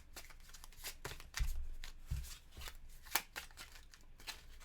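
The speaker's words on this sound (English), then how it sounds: "And we'll shuffle these up." A deck of board game cards for the zombie survival game Dead of Winter is shuffled by hand, giving a run of soft riffling and slapping bursts, close and moderately loud, with no talk.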